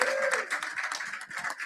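Audience applause at a book launch, a dense steady patter of many hands clapping for a panelist, fairly close and continuous throughout, with a faint voice trailing off at the start.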